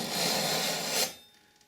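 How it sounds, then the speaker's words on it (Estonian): A metal file rasps steadily against a knife blade during sharpening, shaving off metal in one continuous close stroke before stopping abruptly, leaving a faint fading tail. "Juba hääle järgi on kuulda, kuidas korralik laast"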